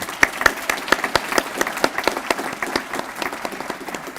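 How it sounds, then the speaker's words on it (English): A crowd at a student leadership awards ceremony applauds steadily, many hands clapping in a dense, even patter that carries on throughout without any voices. "let's give them a round of applause once again"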